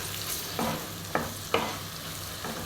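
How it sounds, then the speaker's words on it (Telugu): Ridge gourd pieces are stirred in a pan for a dried prawn curry, soft sizzling with several distinct scraping strokes of a spatula, fairly quiet. "పెట్టుకున్న బీరకాయల్ని యాడ్ చేసుకుందాం వీటిని చక్కగా మిక్స్ చేసుకుందాం"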